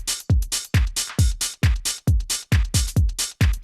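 An open hi-hat drum sample plays eight times in a steady pulse, each hit a bright, loud sizzling wash with a low thump at the onset that decays briefly before the next strike.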